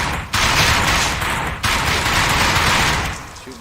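Dense, continuous gunfire from the VR shooter Dick Wilde 2, with players blasting floating debris; loud rapid bursts fill the clip with only brief breaks, and no one speaks.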